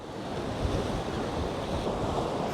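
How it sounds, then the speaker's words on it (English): Sea waves washing steadily onto the beach at Whitby, North Yorkshire, a continuous broad roar of surf with wind buffeting the microphone, fairly loud and unbroken, with no voices. "watch the sea returning, bringing the beach back"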